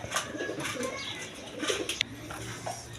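A pair of Mosholdom pigeons, a fancy breed kept for sale, give soft repeated coos that are faint and close, set against a low background hum with a brief sharp click midway.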